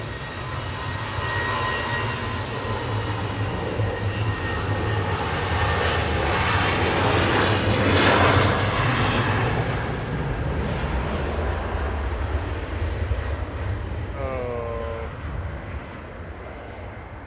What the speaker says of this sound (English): KLM 10360 departing, heading back to Amsterdam, 737